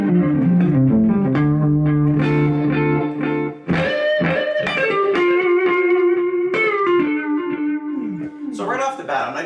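Electric guitar played through a Boss RE-202 Space Echo delay pedal with the saturation turned up, giving sustained, distorted notes and chords with repeating echo tails, close and loud, with a short break partway through.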